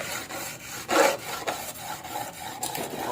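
Rhythmic rasping strokes of 100-grit sandpaper rubbing back and forth on a shim for a Suzuki Satria FU scooter, close and steady, with about a dozen strokes and no voices.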